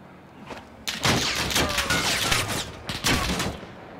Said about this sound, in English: Oh, he shot another rocket.